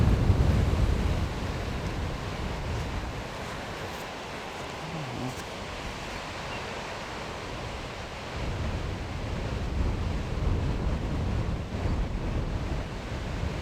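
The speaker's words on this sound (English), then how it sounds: "Damn, this wind." Strong outdoor wind buffets the microphone in a dense, continuous roar that swells and eases in gusts, with no clear voices.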